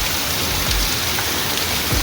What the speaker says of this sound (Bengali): কিরকম জোরে বৃষ্টি শুরু হয়ে গেছে, তাই না?